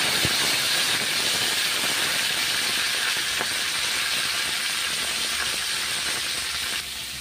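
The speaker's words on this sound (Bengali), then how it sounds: "শুকনো লঙ্কা, কাঁচা লঙ্কা ফোড়ন দিলাম।" Dried and green chillies temper in hot oil with five-spice in a home kitchen, a loud continuous sizzling hiss that holds steady close up, with a couple of faint clicks.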